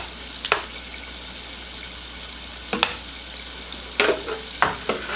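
A soft, steady sizzle of scallops frying in a pan, broken by a few sharp clinks and scrapes of a utensil stirring.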